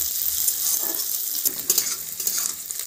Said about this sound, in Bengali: পেঁয়াজগুলো আমার একটু ভাজা হোক